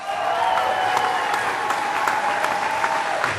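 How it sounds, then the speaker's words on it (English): A crowd at a robotics competition opening ceremony applauds steadily, with dense, loud clapping that continues without a break for the whole stretch. "But a big round of applause."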